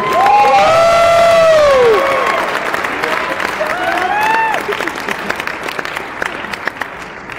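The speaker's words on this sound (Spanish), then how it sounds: "un fuerte aplauso" Loud applause and cheering from a crowd at the opening ceremony of a computing olympiad, with bright whistles and shouts over the clapping before it fades to lighter, scattered claps.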